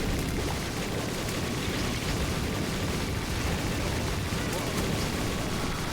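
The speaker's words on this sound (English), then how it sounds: "Because I have infinite explosions all of the time." Continuous dense rumbling blasts with a steady roar, like constant explosions layered together in The Binding of Isaac: Repentance, loud and unbroken throughout.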